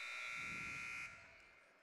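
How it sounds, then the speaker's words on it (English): A basketball game buzzer ending the quarter at a high school gym gives one sustained, moderately loud electronic tone for about a second, then cuts off into faint crowd ambience. "as the buzzer sounds."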